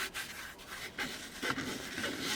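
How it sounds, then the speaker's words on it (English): Donut dough being rolled out and stretched by hand in a small RV kitchen, giving soft, uneven rubbing strokes that come and go in a few close passes. "And kind of stretch it as you roll it."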